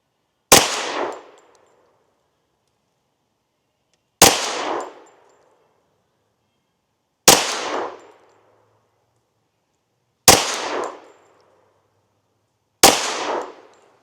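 Five sharp carbine shots ring out at a range target 10 yards away, loud cracks spaced a few seconds apart, each followed by a short ringing decay, with no talking between them.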